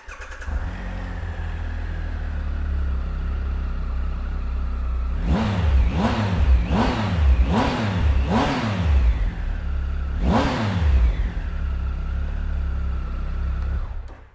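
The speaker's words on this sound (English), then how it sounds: "So let's fire this one up and have a listen." A Triumph Tiger Explorer motorcycle engine idles steadily, then revs sharply several times in quick succession, pauses, revs once more and settles back to idle.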